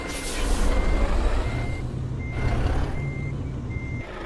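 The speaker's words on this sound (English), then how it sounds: "it's going to be a little bit loud here just for a second, guys, while I'm backing up" A truck in American Truck Simulator reverses with a loud engine rumble, while a high backup alarm beeps at steady intervals, about four beeps over the idling drone, with a brief air hiss early on.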